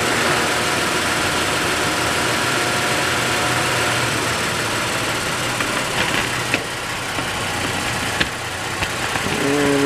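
A 2018 Toyota engine idles in park on level ground, a steady low hum running throughout with a couple of faint clicks near the end.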